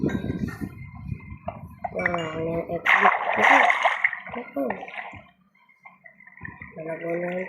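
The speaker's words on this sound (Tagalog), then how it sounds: "Nalagay na yung tubig." Water is placed in Minecraft with splashing, gurgling bursts, mixed with game clicks and chimes, under someone talking through most of it.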